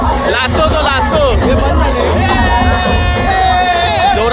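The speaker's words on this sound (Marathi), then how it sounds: "जोरात जल्लोष चालू आहे" A loud, dense crowd celebrating at the Dongri Cha Raja Padya Pujan ceremony in Mumbai ahead of Ganeshotsav, with overlapping cheering voices and whoops filling the whole stretch without a break.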